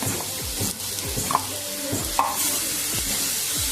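Coriander, capsicum and chopped tomatoes sizzle in a pan while being stirred and sautéed for momos, a steady frying hiss with repeated scraping strokes of a spoon and a couple of sharp clinks.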